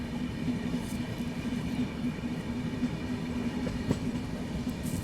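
The Sachkhand Express, an Indian passenger train, rumbles along steadily from inside a carriage, a continuous low drone with faint rhythmic clatter and no talk.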